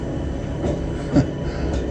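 Steady low rumble of a train at a station, with rolling rail noise and a brief louder knock, heard continuously and fairly close with no speech.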